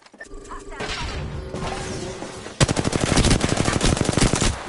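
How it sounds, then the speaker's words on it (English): Automatic weapon fire in the video game Apex Legends, starting with scattered shots and mechanical clatter, then a loud, close, rapid burst of sustained gunfire in the last two seconds. "Getting shot at."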